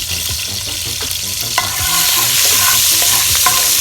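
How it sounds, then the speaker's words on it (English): Pepper and garlic fry in oil in a pot, a loud close sizzle with rhythmic scraping and stirring knocks, growing denser partway through, with no voices. "so pepper and garlic gone in the oil"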